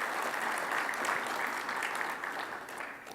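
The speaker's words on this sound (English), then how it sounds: "So just a final round of applause." Audience at an association presentation giving a final round of applause, steady massed clapping filling the room at moderate distance, easing slightly toward the end.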